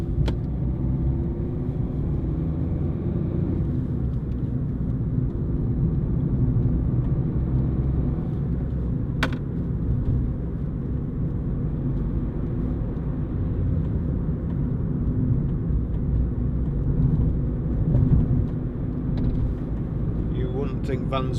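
A Ford Fiesta 1.4 TDCi diesel panel van on the move, with a steady low engine drone and road rumble continuing throughout, a brief click near the middle and a soft voice speaking faintly underneath.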